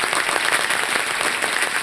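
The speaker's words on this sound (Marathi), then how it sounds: "जरा टाळ्या जोरदार ह्या टीमसाठी" A crowd at a team competition event breaks into vigorous applause, many hands clapping densely and continuously at close range, a faint voice just audible beneath.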